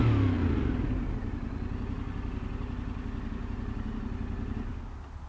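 A Yamaha Tenere 700 adventure motorcycle engine runs steadily close by, with a brief throttle blip at the start and then a low, even idle rumble throughout, with no one talking.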